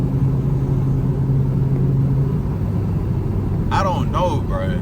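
A Camaro ZL1 V8 rumbles low and steady during a drive, cruising calmly rather than pulling hard, with a voice talking over it near the end.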